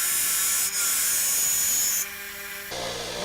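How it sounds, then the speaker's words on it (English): A power sander grinds the metal of a friction folder knife, giving a continuous high-pitched whine and hiss that shifts in pitch and loudness as the blade is pressed and moved against it. "where the sander's meeting the metal"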